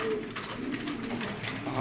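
Racing pigeons cooing close by, soft throaty murmurs repeating over a faint background hum.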